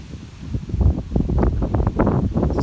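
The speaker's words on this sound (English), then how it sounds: "It's a little windy out today, so bear with me." Gusty outdoor wind buffets the microphone in low, uneven rumbling bursts that rise and fall continuously.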